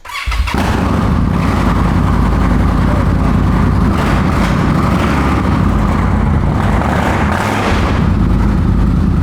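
A custom Indian Scout motorcycle engine roars loud and close, holding a steady heavy rev throughout with slight surges and dips, no voices over it.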